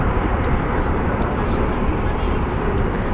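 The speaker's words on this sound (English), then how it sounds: "looks like the 767 is actually getting ready to depart" A Boeing 767 airliner prepares to depart Phoenix Sky Harbor airport, its jet engines making a steady, loud, broadband roar that holds even throughout, with a few faint clicks on top.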